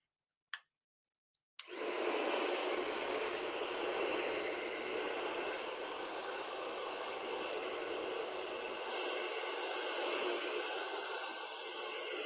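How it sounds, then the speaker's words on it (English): After a couple of faint clicks, a blow dryer switches on and blows a steady, close whooshing hiss over freshly painted artwork, running continuously to the end. "let me go ahead and use my blow dryer on this."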